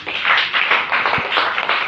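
A church congregation clapping for Jesus, a short burst of many hands beating together in a quick, slightly uneven rhythm, close and fairly loud.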